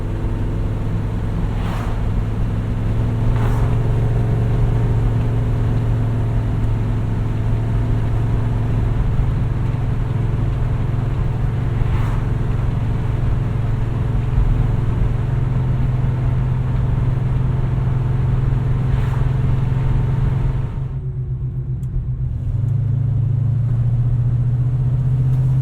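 Rebuilt Chevelle V8 with a high stall converter cruising, its steady loud engine drone filling an open cabin with no back window, a brief dip in tone near the end as the throttle eases before the rumble returns.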